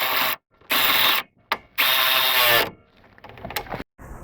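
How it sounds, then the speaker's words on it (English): A ratchet with an 18 mm socket tightens a bolt holding a metal bracket on a BMW tension strut. Loud, close bursts of rapid clicking come in three long runs, followed by a few softer, scattered clicks. "I'm just going to use my 18 millimeter and I'm going to secure this down."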